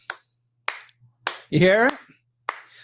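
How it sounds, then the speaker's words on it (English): Sharp slapping claps of cheeks in a steady rhythm, five crisp smacks about half a second apart, close and loud, with a short spoken question breaking in midway. "It's the sound of cheek clapping,"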